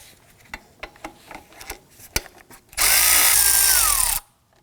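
Impact wrench or power drill spinning off 10mm bolts from a cover on a 2005-2009 Subaru Legacy 2.5L H4, a loud steady whine lasting about a second and a half after some scattered clicks and handling noises.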